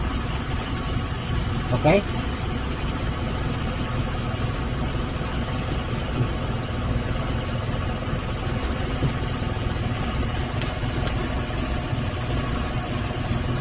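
A Zebra Espass engine runs with its Rotax EFI fuel pump, giving an even, unbroken mechanical hum at moderate level. A voice speaks briefly.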